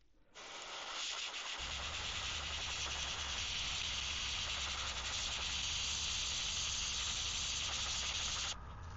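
An airbrush sprays lemon yellow paint onto a 3D printed fishing lure, giving a steady, close hiss that runs for about eight seconds without a break before cutting off.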